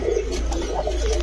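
Orange Chila pigeons with short boot-shaped beaks coo up close in a low, throaty, rolling series of soft calls, heard clearly over a steady low hum.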